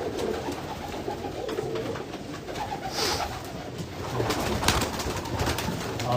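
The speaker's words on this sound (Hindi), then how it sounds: "बहुत अच्छे कबूतर है रमजान भाई के" Pigeons in rooftop cages coo softly at a distance, a low murmuring that continues behind faint background noise.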